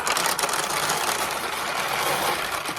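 Steel balls pour into a 1974 Nishijin Power Flash vintage pachinko machine and run through it, giving a dense, steady metallic rattling whir that holds evenly from start to finish with no talking.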